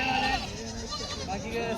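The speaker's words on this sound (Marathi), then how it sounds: "यांच्यापाशी पाहू शकता गावरान शेळ्या मोठ्या मापाच्या गावरान शेळ्या आहेत" Local gavran goats bleat at a village goat market in Jawala, Aundha Nagnath taluka, Hingoli district, with a few short calls rising through steady nearby talk and crowd murmur.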